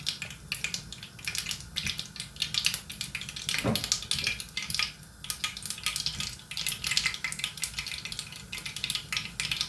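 Steady crackling sizzle of onions frying in a pan after spluttering seeds, for an Andhra Rayalaseema-style bitter gourd tomato curry; continuous close hissing with small pops, no talk.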